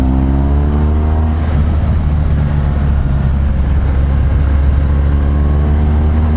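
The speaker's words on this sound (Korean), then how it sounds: "그 고RPM에서 갈 수도 있겠지만, 그러면 너무 엔진이 이제 탄력이 붙어서 활발하기 때문에" A motorcycle engine revs hard at high RPM during a ride, a loud, steady droning roar with a strong harmonic whine that holds throughout with no voices.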